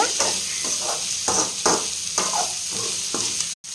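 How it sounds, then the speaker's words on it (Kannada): Homemade noodles frying in a pan, a steady loud sizzle broken by repeated rhythmic scrapes and stirs of the spatula, close by with no talk. "1-2 ಮಿನಿಟ್ಸ್ ಫ್ರೈ ಮಾಡಿದ್ರೆ ಸಾಕಂತೆ."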